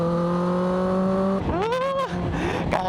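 A 1000cc superbike sports bike runs at a steady high note, then revs up sharply and climbs through gears as it accelerates, loud and close with a brief drop between pulls.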